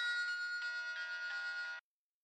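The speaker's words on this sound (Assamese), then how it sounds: "তাৰমানে দাইদেউ ফোন।" A mobile phone plays a bright, repeating electronic ringtone for an incoming call, rising and falling in short pulses before cutting off abruptly, with silence after.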